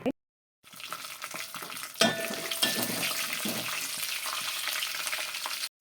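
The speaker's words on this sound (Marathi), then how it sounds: "आता मी याच्यामध्ये तेलामध्ये टाकून चांगलं परतून घेणार आहे" Whole spices including cardamom and cumin sizzle and fry in hot oil and ghee for a Satara-style mutton biryani, a steady close crackling hiss beginning after a brief pause, with a sharper burst of spitting about a third of the way in.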